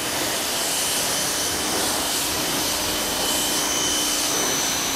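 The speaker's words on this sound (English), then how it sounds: "Trying to give it a good rinse" Water spray rinsing a 2022 BMW G80 M3 Competition xDrive during its first wash, a steady loud hiss of pressurized water running continuously throughout without pauses.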